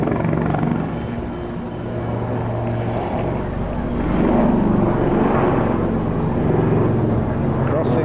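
A Lynx helicopter flying an airshow display, its loud rotor and engine roar filling the air continuously, swelling as it passes, with an announcer talking over it.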